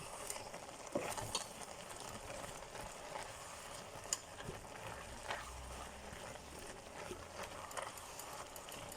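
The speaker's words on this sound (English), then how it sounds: "we'll then add our onions" Onions added to a pot of sauteing vegetables for leek soup, a faint soft sizzle with occasional quiet scrapes and knocks of stirring, low and close.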